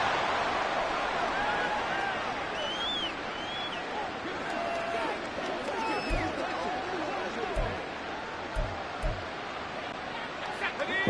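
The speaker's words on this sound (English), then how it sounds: "Well, this crowd is making an impact right now." Stadium crowd roar in a Madden 24 football video game, a steady, loud wash of cheering and babble running throughout under play-by-play commentary, with a few thumps near the end.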